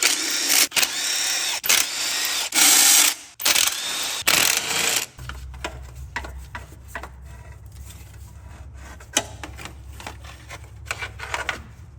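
Ratchet loosening 10 mm heat shield bolts on the exhaust of a 2007-2013 Silverado-type truck. Rapid clicking bursts come first, then lighter intermittent clicks and taps over a low hum, close up, with no talking.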